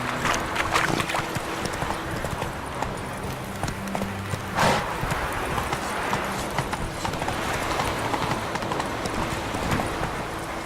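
Steady clip-clop of a horse galloping in The Witcher 3, a continuous rhythmic hoofbeat running the whole time at a moderate level, with game ambience behind it and no talking.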